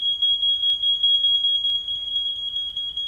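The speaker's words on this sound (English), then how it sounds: "the use of smoke detectors has been one of the biggest advances for early" A smoke detector sounds a steady, piercing high alarm tone that holds throughout, with two faint clicks partway through and a low background hum underneath.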